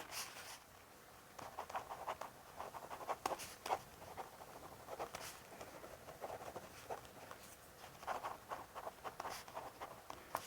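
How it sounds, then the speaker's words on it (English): Handwriting notes with a pen on paper in a soft, close-miked setting, with scratchy strokes in irregular bursts and short pauses between them. "let me write some of this out for you"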